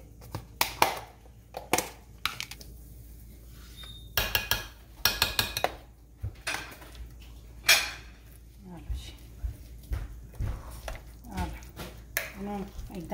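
Mashed potatoes being mixed with cream cheese in a bowl: irregular clinks and clatters of a utensil against the dish, with scraping in between. Sharp knocks come in clusters over a quiet background.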